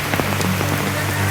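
Steady rain patters on a shelter roof in a village, a dense close drumming with scattered louder drops and no voices.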